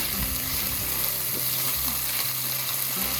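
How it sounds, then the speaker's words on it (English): Cashew nuts, onion and ginger garlic paste fry in a pan, giving a steady close sizzle and crackle with faint stirring scrapes, no voices heard. "Just fry it for 1 to 2 minutes. Don't burn the onion and the ginger garlic paste."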